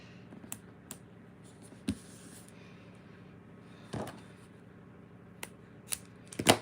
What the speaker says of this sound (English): Why am I not using my non-stick scissors?